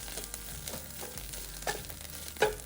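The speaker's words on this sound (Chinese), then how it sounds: "将梅菜加入一起拌炒，炒至梅菜已出香气" Preserved mustard greens stir-fried in a wok, giving a steady soft sizzle with light scraping stirs and a couple of sharper clanks, fairly quiet and with no talking.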